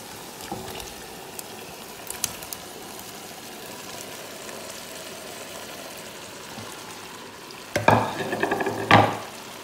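Meat dropped into a pan of sautéing onion sizzles steadily at low level, then bursts into two loud, crackling surges near the end as it hits the hot fat.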